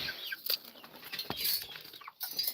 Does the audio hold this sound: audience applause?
no